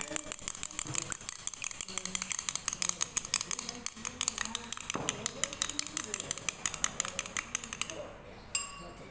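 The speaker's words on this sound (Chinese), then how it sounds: "用筷子搅散" Two eggs being beaten with chopsticks in a bowl, a fast, steady run of light clinking and stirring taps close by that stops near the end.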